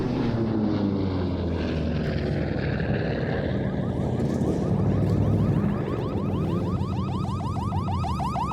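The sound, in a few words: F4U Corsair propeller aircraft flying at an airshow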